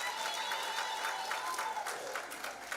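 Audience applause filling a graduation ceremony hall at a health sciences institute, a steady dense wash of clapping from many hands that holds without pause, with a faint tone and a murmur of voices underneath.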